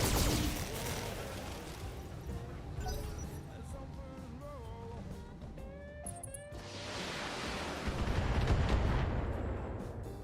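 Heavy weapons fire from battling mechs in the BattleTech video game, a dense continuous barrage of booming blasts and rumbling impacts, loud and close, swelling again near the end with whistling tonal effects mixed in.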